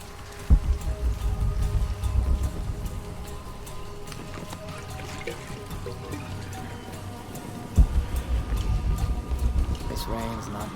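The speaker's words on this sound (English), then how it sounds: "This rain's not natural." Rain falls steadily in the Shadow of the Tomb Raider video game, a continuous patter with heavy low thuds and rumbles swelling twice, while voices talk over it.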